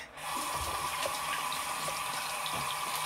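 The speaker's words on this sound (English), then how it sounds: "Guys, I'm washing my hands." Water runs steadily from a tap while hands are washed, a close, constant rushing stream that starts right away and carries on with no talking.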